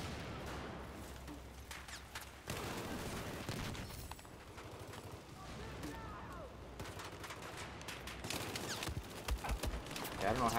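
Rapid game gunfire from Battlefield 4 on the Metro map, bursts of automatic shots with booms crackling through a dense, continuous battle mix, loud and busy throughout, with no talking over it.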